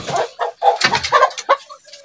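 A chicken clucks several times in quick, choppy bursts, close and clear, with no other sounds around it.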